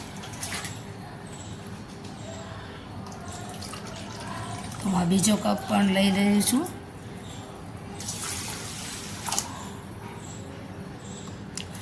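Water poured from a cup onto sugar in a pan to make gulab jamun syrup, a short loud splashing pour heard close up in the middle, with someone talking before and after it.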